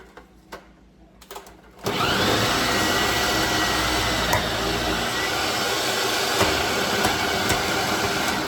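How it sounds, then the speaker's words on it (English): A food processor with a hopper shreds potatoes, starting abruptly after a short stretch of quiet handling noises and then holding a loud, steady motor roar with grinding texture for the rest of the clip. "I'm going to throw it in my hopper, and we're going to make shredded potatoes."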